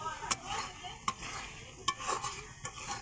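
Fish fat sizzles in a pan at low volume while a utensil scrapes and stirs, with four sharp, evenly spaced clinks against the pan.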